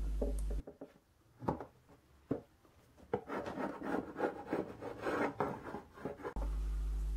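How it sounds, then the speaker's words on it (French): Rough, rhythmic rasping strokes as a wooden beehive super frame is scraped clean, a dozen or so close scrapes of varying strength, with a steady hum before and after. "Donc autant gratter, autant que ce soit tout prêt pour le printemps."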